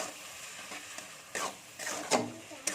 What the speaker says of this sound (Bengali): দিয়ে এটাকে একটু ভালো করে নেড়ে নেবো মশলাটা করে নেবো